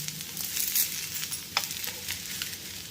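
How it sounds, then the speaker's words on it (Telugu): An instant semolina (rava) dosa fries on high heat in a pan, giving a steady soft sizzle with crackling pops and occasional sharper spits, close and continuous with no voices. "మెత్తగా కావాలంటే హైలో పెట్టి వేయించాలి."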